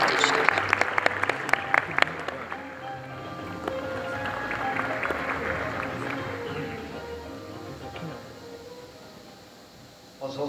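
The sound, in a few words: audience applause welcoming a speaker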